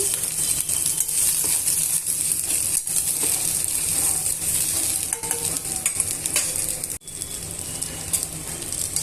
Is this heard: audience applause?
no